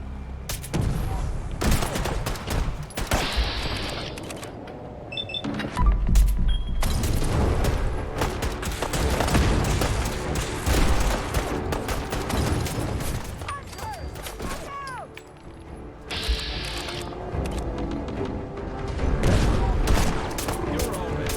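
Sustained gunfire in a battle against Gulpers in the video game Fallout 4 Far Harbor, dense volleys of shots and booms with mechanical clatter, continuous and loud throughout, with shouted voices mixed in.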